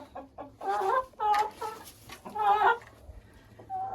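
An Araucana rooster being carried and set down clucks in several close, agitated bursts with short pauses between, heard clearly against a quiet background.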